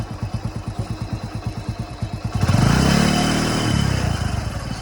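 A 12-year-old Hero Passion motorcycle with 80k km on it, heard close near the silencer: a rapid, even idle thump, then a rev that rises and falls before settling back to a steady run.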